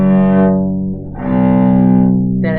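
A cello bowed in tune, rich sustained low notes with strong harmonics, one long stroke easing off near the middle before swelling again, close and loud with no talk.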